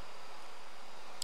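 Bees in the Galacticraft mod for Minecraft: a steady, even insect buzz drones throughout, moderately loud, with no voices.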